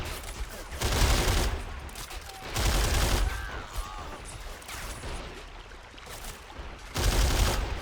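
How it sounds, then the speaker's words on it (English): Machine gun fire in the war strategy game Men of War: Assault Squad 2, long loud bursts of rapid shots repeating every couple of seconds with battle noise in between. "this machine gun here is able to get a lot of suppressive fire out on the Coventa soldiers trying to push forward there"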